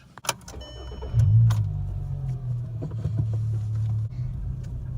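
A Volkswagen Jetta pulls hard in second gear from about ten miles per hour, its engine note rising into a steady, loud low drone close by, after a short sharp click at the start.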